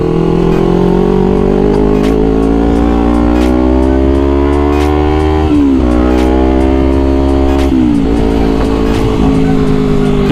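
A Honda CBR250RR motorcycle engine revs loud and close, its pitch rising and dropping through repeated throttle blips with no talk over it.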